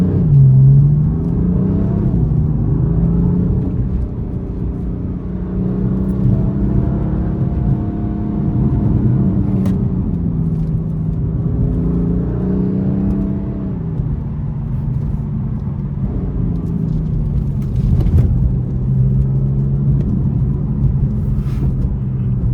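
A 500hp BMW M4 drives along narrow back roads, its engine a steady close rumble that rises and falls through gear changes, with no talk over it.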